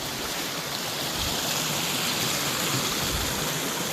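Clean mountain stream water flowing into a backyard and out of a pipe: a steady, close rushing and splashing wash that holds the same level throughout, with no voices.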